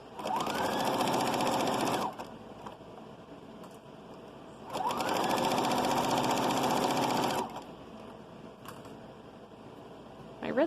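A sewing machine stitching the seam of a children's shrug in two sustained whirring runs of about two seconds each, separated by a pause with small clicks, loud and close.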